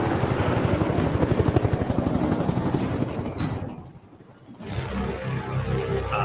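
A helicopter's rotor thumps in a steady rapid pulse alongside a deep roaring rumble in the Jurassic World Dominion prologue, loud and close, briefly dropping away before the throbbing returns.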